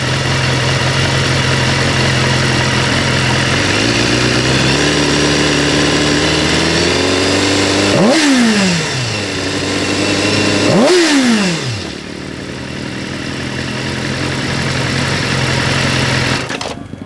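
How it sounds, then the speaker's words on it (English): A BMW S1000RR sport bike idles steadily at close range, then the throttle is blipped hard twice. Each blip sends the engine revving sharply upward, and the revs drop quickly back to a settled idle between and after. "I'm just going to blip the throttle for you pretty hard"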